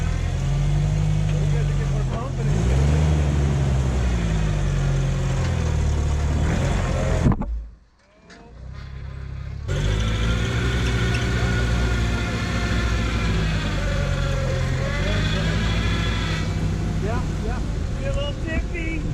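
A manual-transmission car pulls away on a rim trail at Niagara, its engine rising and falling steadily with people talking over it; the sound drops out briefly midway before the engine note returns.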